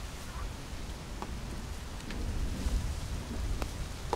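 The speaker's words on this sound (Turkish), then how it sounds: "Hayır, dolu yağıyor." Hail falling at a campsite beside a caravan, a dense steady patter with occasional sharper ticks of stones hitting surfaces and a low rumbling undertone, continuous and growing slightly louder.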